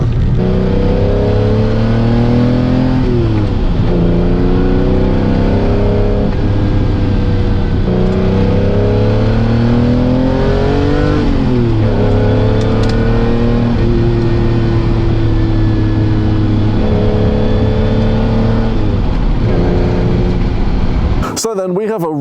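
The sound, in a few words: Aston Valkyrie engine revving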